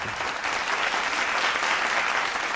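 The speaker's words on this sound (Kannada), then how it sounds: "ಈಗ ಸರಿಯಾಗಿ ಚಪ್ಪಾಳೆ ಹೊಡೀರಿ" An audience at a televised singing reality competition claps together, producing a dense, steady wash of applause that holds evenly throughout, with no voices.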